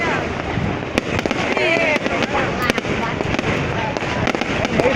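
Fireworks burst repeatedly over a bridge in a crowded outdoor celebration, with many sharp bangs and crackles coming from all directions amid continuous crowd noise and nearby talking.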